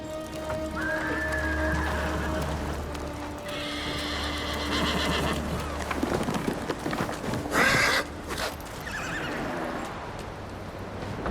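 A horse in the video game Ghost of Tsushima gives a clear, loud whinny, with hoof clip-clops and a light rain-like patter around it and no talk.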